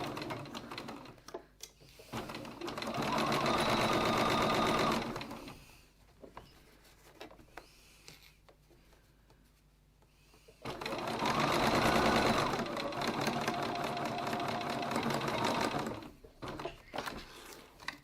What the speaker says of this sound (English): And then go to your machine and stitch.